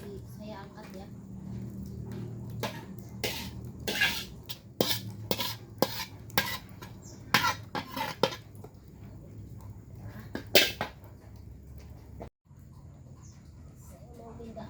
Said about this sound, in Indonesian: Saya mau pindah panci.